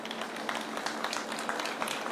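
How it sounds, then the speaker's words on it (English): A crowd at a luxury real estate launch event in Gurgaon keeps clapping, a sustained, even wash of many hands with scattered sharper claps standing out. "A bigger and stronger round of applause."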